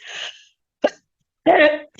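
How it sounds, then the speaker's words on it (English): Three short, close coughs separated by brief pauses, the last one rougher and throatier, with no talking around them. "I'm going to cough one more time"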